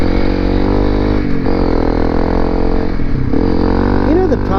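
Honda CRF250L Rally motorcycle ridden on a dirt fire road, its steady engine drone loud and close throughout with slight shifts in pitch.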